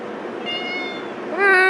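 A pet cat wearing a small bell on its collar meows close by, a drawn-out call that rises into a louder, brighter meow at the end, with no talk over it.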